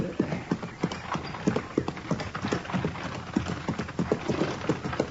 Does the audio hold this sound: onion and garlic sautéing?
no